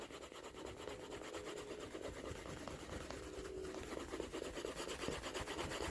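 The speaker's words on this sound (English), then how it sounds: "take this stick and rub it across, and you're heating up the fibers" A burnishing stick rubbed with moderate pressure along a rough leather edge makes a steady, continuous rasping friction with a quick back-and-forth rhythm, close and fairly quiet, running the whole time with no talking.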